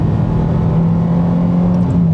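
A Ferrari F430 sports car drives with a steady, loud engine drone, a strong low hum holding an even pitch from start to finish, with no voices.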